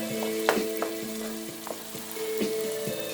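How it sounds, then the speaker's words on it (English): Freshly diced carrots fry in a pot for a one-pot turmeric jasmine rice, with a steady close sizzle broken by a few sharp clinks of stirring. "So I'm going to add my carrots in here."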